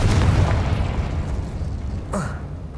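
Spell explosion from Confringo in the video game Hogwarts Legacy: a loud boom bursts at the start and rumbles off, with a brief whooshing flare near the end over continuous game background.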